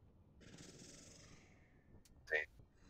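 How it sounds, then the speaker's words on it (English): A single short nose blow, close and quiet, a breathy rush followed by a sharper snorting puff near the end. "I can blow my nose"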